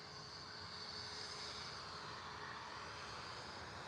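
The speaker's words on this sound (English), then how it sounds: "Ryanair 77 Max 8200 on its way out." A Ryanair Boeing 737 MAX 8200 departs Liverpool Airport, its engines giving a steady, broad jet roar that holds at a moderate distance throughout with no voices over it.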